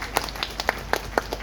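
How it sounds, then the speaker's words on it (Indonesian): Applause for North Sulawesi at an Indonesian event: a small group claps in scattered, uneven bursts, moderately near, with no talking over it. "Tepuk tangan untuk Sulawesi Utara."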